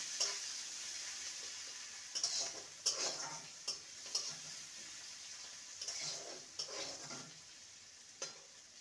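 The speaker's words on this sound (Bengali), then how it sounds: "পেঁয়াজটাকে হালকা ভেজে নেব।" Chopped onion fries softly in a pan, a faint steady sizzle punctuated by several stirring scrapes at irregular intervals.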